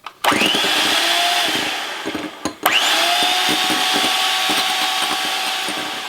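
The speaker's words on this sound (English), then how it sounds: "My blender is noisy, so I'm not going to leave that on until it's all done" A loud, steady blender whir runs throughout while mixing meringue with sugar, briefly dipping and cutting out near the middle before starting up again with a rising whine.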